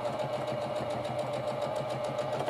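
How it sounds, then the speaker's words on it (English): A sewing machine zigzag stitches a T-shirt sleeve hem with a steady, fast needle rhythm that runs continuously throughout, close and alone. "Make sure you switch back to a zigzag stitch"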